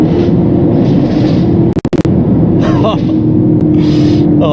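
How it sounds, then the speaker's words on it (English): A supercharged 5.0 V8 Range Rover L322 idles with a steady low rumble, broken by a sharp burst of exhaust crackles and pops near the middle, with faint voices and rustle around it. "Let's get that crackle going."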